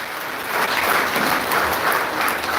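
Audience applause at a Namahatta devotional kirtan program on the last night of Kartik, a steady broad wash of clapping sustained throughout at moderate loudness, no voices on top.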